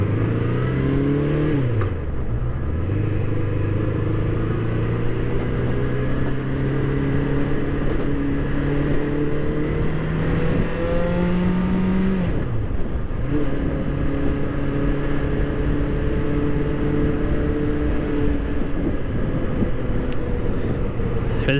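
A 1981 Honda CB650 cafe racer's engine drones while riding on the road, loud and close, its pitch rising through each gear and dropping at the shifts, with constant wind rush behind it.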